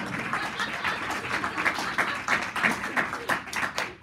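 A crowd at an Iowa judicial nominating process debate applauds with dense, steady clapping that carries on throughout, with voices mixed in.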